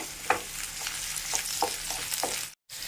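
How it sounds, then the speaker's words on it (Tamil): Bitter gourd fries in oil with a soft continuous sizzle, punctuated by several light spatula scrapes and taps as it is stirred, fairly faint and with no talking. "இப்போ பாவக்காய் பாருங்கள் நல்லா வறுத்துட்டேன்"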